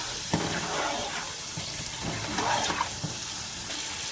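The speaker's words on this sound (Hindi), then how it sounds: "तो इसमें मैं तकरीबन 4 गिलास गर्म पानी के शामिल करूँगा।" Hot water pours steadily into a pot of hareesa mixture with pepper, chili and turmeric, a continuous close splashing hiss with no pauses and no voices.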